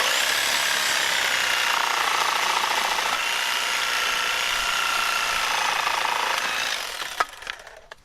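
A power saw rips at a downward angle through a pallet board plank, its loud steady whine running continuously for about seven seconds before cutting off into a few faint knocks and clatters.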